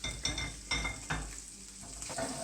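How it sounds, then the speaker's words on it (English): Paneer chunks frying in sauce in a pan, a soft sizzle broken by a few sharp utensil scrapes and stirring knocks, faint and close with no talk. "We're just going to fry that off until they're nice and light and golden coloured"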